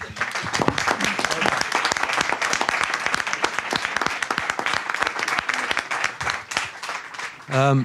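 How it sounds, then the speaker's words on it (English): An audience at a hearing gives a sustained round of applause, dense steady clapping from many hands lasting several seconds, with a voice briefly heard at the end. "I think we should have a round of applause"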